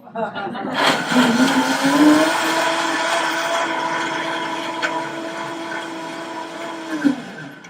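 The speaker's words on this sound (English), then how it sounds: "save the most important part of your conversation until the blender is on the highest speed" A kitchen blender revs up and runs at its highest speed during a live vegan cooking demo, a loud sustained whine rising in pitch then holding steady for several seconds before cutting off, with talk over it.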